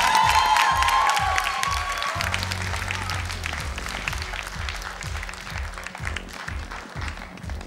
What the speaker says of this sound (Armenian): Վերցու քեզ հետ այս ծափահարությունները,